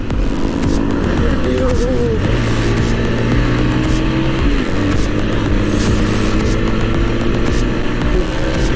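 Kawasaki ZX-10R superbike at full throttle, a loud sustained engine roar with steady droning tones and shifting pitch, constant and close throughout.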